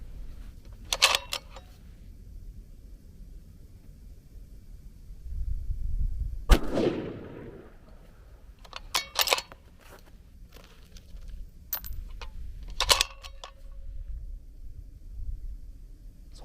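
A 22 DPC wildcat rifle fires one sharp, loud shot, and a faint distant bullet impact follows at 710 yards. Several clicks and handling clatters surround it against a quiet outdoor background.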